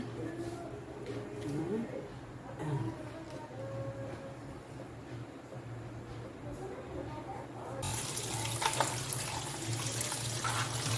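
Hot water is drained off boiled Maggi noodles through a green basket, a steady low pour under a voice that swells into a louder, hissing splash toward the end.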